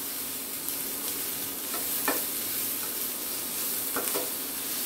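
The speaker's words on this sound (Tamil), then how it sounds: "இப்போ பாருங்க நல்லா வதங்கிட்டு இருக்குது." A steady, crackling sizzle of onions sautéing in a pan, with occasional stirring scrapes and pops over a continuous hiss.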